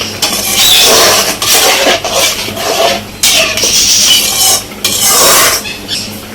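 A spoon scrapes and stirs through thick tomato chutney in a metal pot, loud, close and rhythmic, in repeated strokes with brief pauses.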